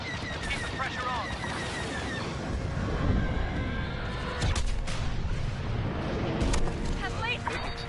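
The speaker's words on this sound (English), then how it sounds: "At least Big explosions." Big explosions and blaster fire in the video game Star Wars Battlefront 2, loud rumbling blasts and sharp booms layered over whooshing fighter engine noise, with a heavier burst midway and scattered talk.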